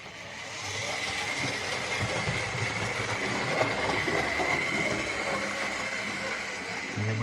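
A model GWR Churchward locomotive runs along a layout track, a steady quiet rolling rumble with faint clicking wheels that holds on without any clear slowdown.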